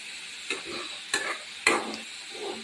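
Grated coconut is stirred into vegetables in a pan with three distinct scraping strokes over a soft, quiet sizzle, close by, with no talking.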